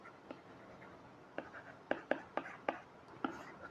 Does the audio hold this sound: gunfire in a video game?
no